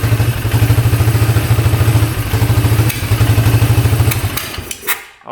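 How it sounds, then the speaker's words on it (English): A free, long-neglected 6x6 ATV engine runs at a rough, loping idle with a steady pulsing beat, loud and close, then coughs and pops as it backfires through the carb before sputtering out near the end. "it's backfiring through the carb pretty good"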